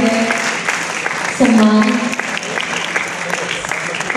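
Steady applause from an audience at the National Red Ribbon Quiz Competition in Patna, Bihar fills the room throughout, with a person speaking briefly over the clapping.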